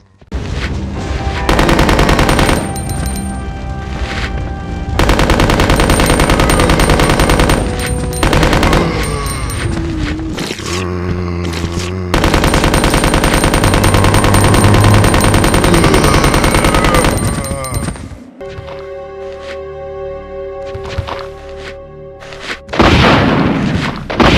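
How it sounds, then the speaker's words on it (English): Sustained automatic gunfire from a machine gun and minigun in Resident Evil 2 on Nintendo GameCube, loud dense bursts running most of the time with brief pauses, heavy booms and a quieter stretch with tonal game sounds near the end. "starts you off with a machine gun, and once you reach an item box, you have a minigun and rocket launcher"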